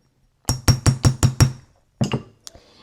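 A hammer strikes jewelry wire six times in quick, even succession with sharp ringing taps, then after a pause two more clustered hits and a light clink.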